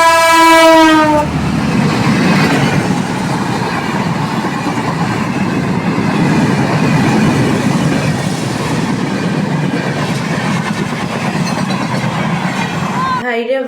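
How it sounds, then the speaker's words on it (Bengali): A passenger train running from Benapole to Dhaka sounds a long loud horn, then roars past close by with heavy continuous rumble and rail clatter for many seconds before a second horn blast at the end. "এই যে ট্রেন হর্ন বাজিয়ে আসতেছে"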